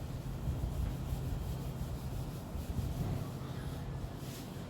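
A steady, soft rubbing sound continues throughout as writing is wiped off a board, close and fairly quiet, with no talking.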